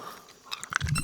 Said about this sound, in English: You're gonna hear me chewing on a cough drop for a little while here.